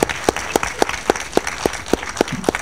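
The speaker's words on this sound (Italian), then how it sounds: "un applauso." Sparse applause from a small audience greeting a remote guest joining an Odoo Days Italy 2023 session, heard as a slow series of separate, sharp claps spaced evenly, fairly close and moderately loud.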